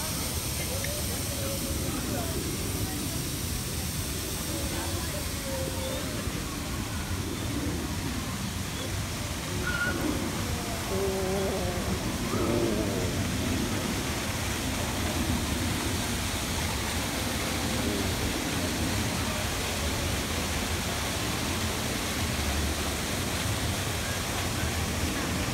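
A waterfall at Tokyo Disneyland makes a steady, dense rushing hiss that does not change for the whole stretch. Faint voices of people nearby blend into the roar.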